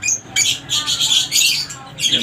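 Opaline dilute mutation parrots, including parblue, blue and green dilute birds, give loud, harsh squawks and screeches in rapid overlapping bursts, heard close up.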